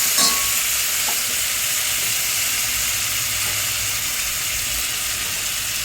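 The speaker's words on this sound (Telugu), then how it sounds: "పుదీనా వేస్తున్నానండి. పుదీనా కూడా వేగాలి." Mint leaves frying in a pan of oil for prawn biryani, giving a steady, even sizzle and hiss throughout, close up, with a faint clink near the start and no talking.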